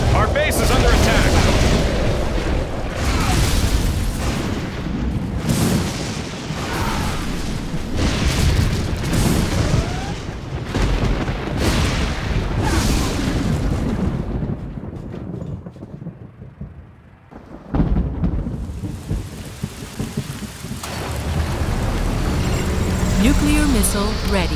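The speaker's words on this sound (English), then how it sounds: "Nuclear missile launched." A nuclear missile strike in the strategy game Generals Zero Hour, heavy booming detonations and rumbling blasts that roll on for many seconds, drop to near silence, then surge back, with game voice announcements over them.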